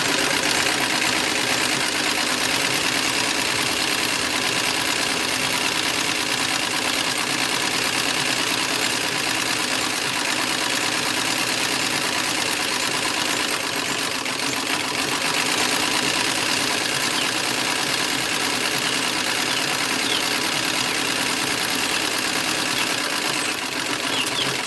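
A sewing machine runs continuously for a long stretch, stitching down the lining of a reproduction 1904 traveling bag, a loud, steady, close mechanical hum with no pauses or talk.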